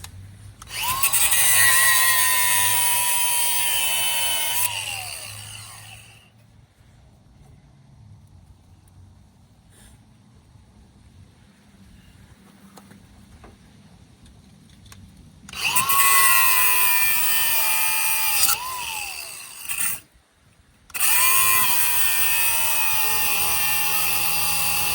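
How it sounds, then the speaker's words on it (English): Angle grinder cutting off lug nuts on a 1991 Honda Civic fitted with Alfa Romeo rims, a loud, close, high whining shriek in long bursts that dip in pitch under load, separated by a quiet stretch. "don't leave home without a grinder."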